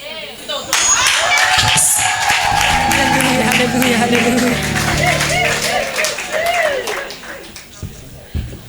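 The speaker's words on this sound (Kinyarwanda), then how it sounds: "Komera Imana amashyi cyane" A church congregation breaks into applause, a sustained wash of clapping running beneath a loud, tuneful voice that dominates throughout.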